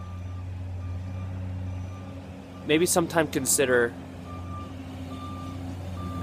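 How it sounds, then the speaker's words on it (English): A passing truck gives off faint, regularly repeating reversing beeps over a low engine hum, while a person briefly speaks in the middle. "as this truck comes by"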